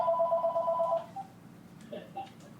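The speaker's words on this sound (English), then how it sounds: "My father has 6 phones, and they're all ringing." Several household telephones in an elderly man's Long Island apartment ringing at once, a bright electronic ring for the first second followed by fainter scattered rings and chirps.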